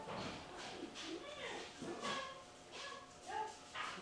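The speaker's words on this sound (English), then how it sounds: "The dogs are excited." Excited dogs barking and whimpering in short yips and woofs, faint and somewhat distant, in irregular bursts spread across the stretch.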